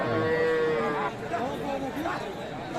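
Bulls moo loudly nearby at a cattle market in Aftabganj, Dinajpur, Bangladesh, long drawn-out lowing calls over a murmur of crowd chatter and voices.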